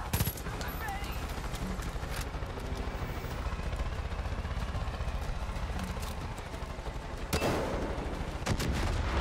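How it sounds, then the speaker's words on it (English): Gunfire in Far Cry 5: scattered shots under a rumbling outdoor ambience, with a sharper, louder volley near the end. "I'm just gonna gun her down."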